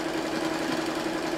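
A sewing machine top stitching a side tie cushion, running in a steady, even mechanical hum with fine rhythmic ticking, close and continuous.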